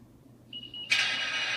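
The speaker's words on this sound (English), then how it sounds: "you hear the decoder kick in. That beeping sound is the engine startup sequence." A model train's sound decoder powering up on a DC layout at about 9.4 volts: a steady electronic beep tone starts, then a loud, rushing diesel engine startup sound bursts in and holds steady.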